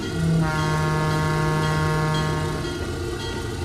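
A small, light train in Trainz 2022 on the C&O Hinton route rolls past with a long, steady horn tone over a constant rail rumble that fades slightly toward the end.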